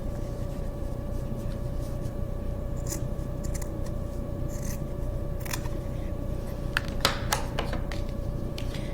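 Scissors snip through a sock in a series of sharp, close clicks, irregular at first and quickening toward the end, over a steady low background hum.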